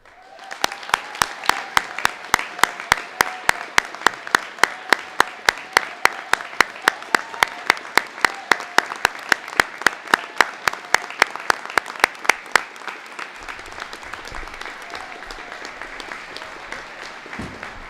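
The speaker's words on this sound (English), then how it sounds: "Please join me just once more in a warm round of applause for all the veterans present here today" Audience applause at an outdoor Veterans Day ceremony in North Reading, honoring veterans: a steady, loud round of many hands clapping in sharp rapid rhythm, lasting about twelve seconds before fading to quiet crowd murmur.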